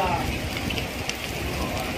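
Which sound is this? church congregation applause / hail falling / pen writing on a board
hail falling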